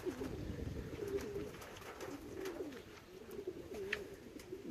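A racing pigeon coos at a loft after a race, repeated soft throaty rolling calls close by, with a few faint clicks and rustles between them.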